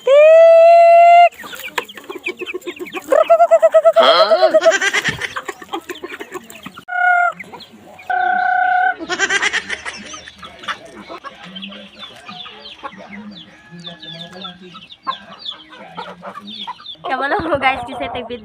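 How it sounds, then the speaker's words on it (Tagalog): Chickens cluck loudly and repeatedly close by in a rural Philippine setting, with a rooster-like call at the start and scattered squawks throughout. "mga manok na po'y pakanon."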